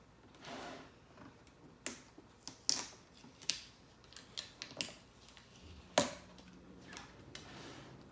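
Packaging for a Lenovo Smart Display is peeled open by hand, with a run of crisp crackles, tears and sharp plastic snaps coming in irregular bursts close to the microphone, and no voices.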